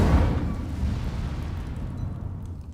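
Incendio fire spell cast in Hogwarts Legacy, a loud fiery burst right at the start that decays into a long rushing roar, fading over a few seconds.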